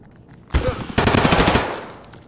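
Gunfire in the video game Escape From Tarkov, set in the Factory map: a single loud shot, then a rapid automatic burst of about a dozen close rounds that fades into echo.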